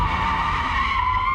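A rear-wheel drive car skids through a full 360-degree spin, its tires letting out a loud, continuous squeal over a low engine rumble for the whole stretch.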